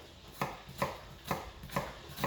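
A knife chops a shallot on a cutting board, five crisp, evenly spaced knocks about half a second apart, close and clear, with no talk.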